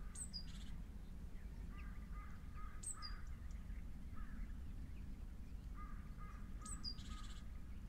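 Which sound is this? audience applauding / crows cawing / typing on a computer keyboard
crows cawing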